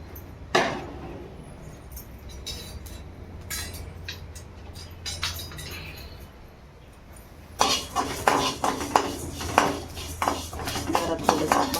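Whole spices—coriander, fennel, fenugreek, black pepper, cloves and a cinnamon piece—dry roast in a pan, heard as close metallic scrapes and clinks of a spoon stirring, with sharper, busier stirring in the final seconds.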